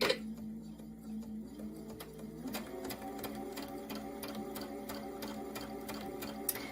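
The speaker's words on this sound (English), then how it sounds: "I've got my 1/4 inch foot on, and I'm just going to go ahead and sew my seam." A sewing machine stitching a quilt patchwork seam with a quarter-inch foot, starting up and settling into a fast even whirring hum with rapid ticking needle strokes, close and quiet, no speech.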